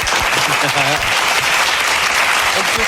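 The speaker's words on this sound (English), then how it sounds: "have an applause button real quick?" An applause sound effect triggered from a button fills the moment with a continuous dense clapping wash, loud and steady, while people talk over it.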